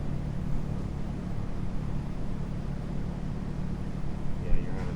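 A Chevrolet SS daily driver runs at full throttle on a dynamometer, a steady, loud engine roar with rolling drone holding constant throughout.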